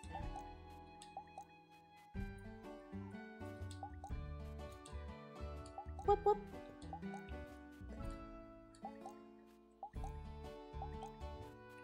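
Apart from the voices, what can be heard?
watering crops in video game Moonstone Island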